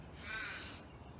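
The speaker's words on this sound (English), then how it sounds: "There's a bird up there." A crow calls from up in a tree, a single raspy caw, soft and distant against a quiet outdoor background with no talk.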